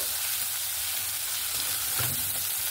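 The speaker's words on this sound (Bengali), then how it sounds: "দিয়ে ভালো করে মশলার সঙ্গে কষিয়ে নেব" Spices sizzling and being stirred in a pan while cooking a prawn and banana-flower dish, a steady close frying hiss throughout with one brief louder scrape or stir near the end.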